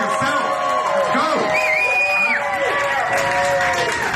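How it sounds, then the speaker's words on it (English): Crowd at an influencer happy hour at Bo-Beau Kitchen in Long Beach, California cheers, whoops and shouts steadily and loudly, with voices ringing out over the din. "really give a round of applause to yourself"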